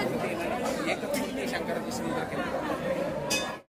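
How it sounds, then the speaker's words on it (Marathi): Loud, dense babble of a large crowd at Murdeshwar temple, with many voices overlapping and occasional clinks and bright transients, continuing steadily before cutting off abruptly at the end. "जबरदस्त गर्दी म्हणजे भरपूर प्रमाणात गर्दी आहे."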